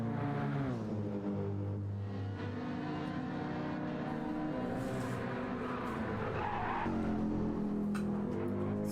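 A Mercedes-Benz touring race car in the AM Division at Monza rounds the Parabolica, its engine a loud, steady, close roar with rising and falling pitch and tyre scrub through the corner.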